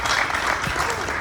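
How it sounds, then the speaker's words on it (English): Audience applause at an art opening reception, a dense, loud burst of clapping from a crowd filling the whole short moment. "So please give them a round of applause."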